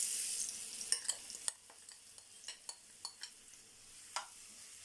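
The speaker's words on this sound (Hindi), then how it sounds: "इन सबको अभी भून लेते हैं हम लोग।" Marinated mushroom and paneer fry in a spoonful of oil, a soft sizzle that fades after the first moments, then quiet with a dozen light clicks and scrapes of stirring.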